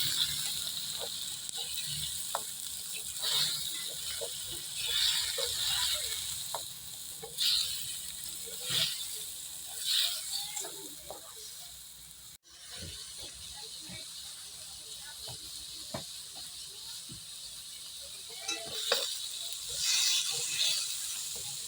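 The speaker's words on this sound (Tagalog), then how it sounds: "Ibubuhos lang natin dyan yung ating hipon. At halo-halo." Shrimp sauté in a pan with pechay, a continuous soft hiss under regular scraping strokes from stirring, close by, with a brief dip near the middle before the sizzle resumes.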